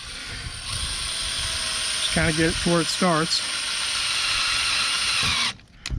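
A cordless drill drives a screw into a spa cover in three short whirring bursts near the middle, close and clear, with someone talking before and around them.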